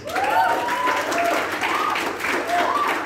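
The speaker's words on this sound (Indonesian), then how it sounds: "Tepuk tangan dulu dong buat Tuhan Yesus" A youth church congregation claps in praise to Jesus, a steady crowd patter of applause with a few raised voices and shouts, moderately loud and sustained.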